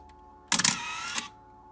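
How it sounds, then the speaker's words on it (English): The shutter of a Canon T90 film camera under repair for a blinking-cursor EEE error fires once in a quiet room, a crisp mechanical clack followed by a short whirring wind and a second click about half a second later. "Then I should push it to this piece here and fire the shutter."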